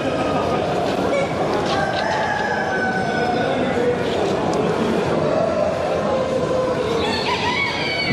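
Romanian Transylvanian naked neck chickens and roosters at a poultry exhibition in Bucharest, with crowing and clucking rising over a dense, noisy crowd of birds and people talking throughout.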